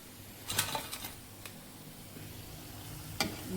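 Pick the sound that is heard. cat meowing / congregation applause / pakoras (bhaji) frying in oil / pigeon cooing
pakoras (bhaji) frying in oil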